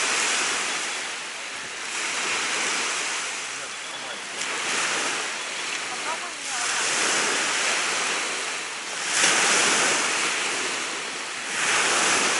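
Steady wind and rolling surf by the sea at Zelenogradsk, a broad continuous wash that swells and eases every few seconds, with a gentle breeze rustling against the microphone and no talking.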